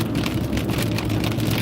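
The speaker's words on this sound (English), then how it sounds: "We are about to get out of this rain." Heavy rain pours down during a thunderstorm as a steady, dense hiss of drops drumming on surfaces. The sound is loud and unbroken, with no distinct thunderclap.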